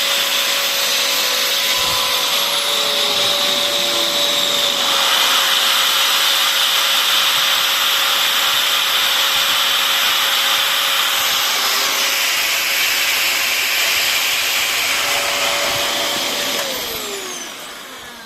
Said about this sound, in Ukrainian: І пилосос працює, і болгарка працює.